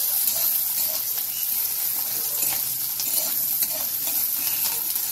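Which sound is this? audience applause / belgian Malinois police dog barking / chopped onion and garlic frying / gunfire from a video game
chopped onion and garlic frying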